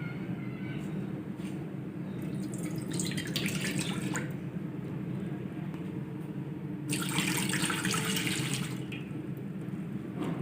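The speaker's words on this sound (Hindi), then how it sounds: "दूध डालेंगे 2 कप।" Two cups of milk pour into a kadai set on the stove, a splashing, running liquid sound that rises in two bursts over a quiet kitchen background, close and moderately soft.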